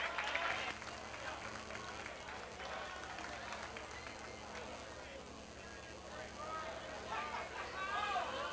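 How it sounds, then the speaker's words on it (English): Audience at an amateur boxing show claps in a hall, a moderate wash of applause with crowd murmur behind it, while a voice talks over the clapping through the middle and the applause swells again toward the end. "How about a nice round of applause"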